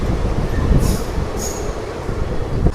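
The Tirupati–Coimbatore Intercity superfast express rumbles along the track in a loud, steady roar heard from on board, with two brief high squeals of the wheels.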